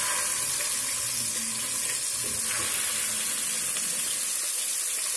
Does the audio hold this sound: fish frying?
yes